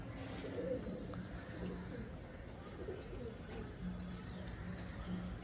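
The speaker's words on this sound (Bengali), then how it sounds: "এরপর আপনাদের একটি মেচিয়া চোখের জোড়া দেখাচ্ছি মেচিয়া লাইনের পায়রা" Soft, steady cooing of Mechia-line pigeons repeats through the clip over a low, constant background rumble, with no talking.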